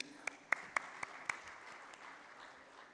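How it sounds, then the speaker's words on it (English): Audience clapping during a conference inaugural session: a few sharp, scattered claps in the first second and a half, then fading into a thin, low background murmur. "So round of applause for that,"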